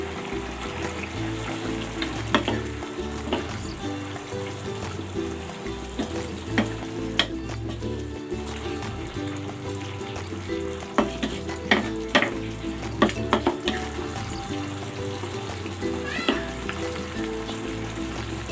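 Pork hitting a hot pan with Worcestershire sauce, a steady close sizzle and frying crackle with stirring clatters throughout.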